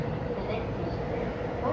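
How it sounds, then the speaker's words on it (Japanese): A Tokyo Rinkai Line train pulls out of Kokusai-Tenjijo station, heard from inside as a steady low rumble and hum of the carriage, even and continuous. "列車は国際展示場駅を出発です。"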